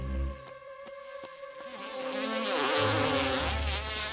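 Bees and other insects buzz steadily around forest flowers, a close, dense drone that swells louder midway and holds, with low wingbeat hum and no voices.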